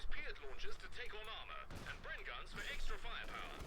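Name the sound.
gunfire from guns in Company of Heroes 2 video game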